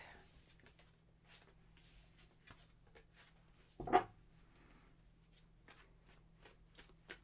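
Tarot cards are shuffled in a quiet room, soft riffling flicks with one louder burst midway, faint and close.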